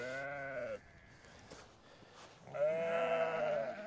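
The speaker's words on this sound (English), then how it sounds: "Oh, you sound a wee bit sore there, lamb." A lamb, sounding sore, bleats close by twice during lambing season: a wavering cry, a quieter pause with soft rustling, then a second, louder, longer bleat.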